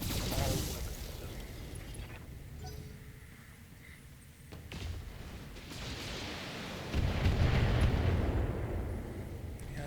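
Mech weapons in the Battletech video game fire and land hits, heavy rumbling booms and blasts swelling and fading over a dense low roar, loud and continuous.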